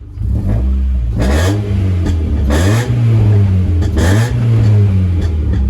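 A Honda CRX engine with a DOHC swap revs up repeatedly, three or four rising surges of loud engine roar that drop back to idle between pulls, after a new throttle position sensor.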